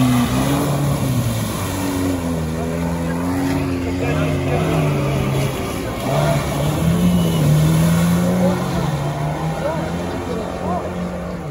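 Off-road race car driving over frozen ground at an off-road race, a steady engine drone with shifting pitch and revs, loud and continuous, with a voice speaking over it.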